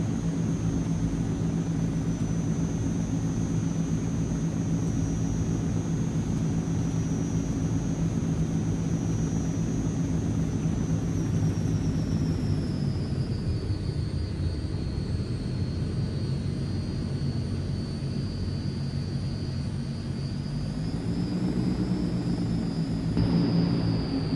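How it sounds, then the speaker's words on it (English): Jet engines roar steadily, then the pitch dips and the rumble shifts as thrust reversers engage, a long continuous drone with no voices, from a Transall C-160 in Microsoft Flight Simulator. "Hear the reversers."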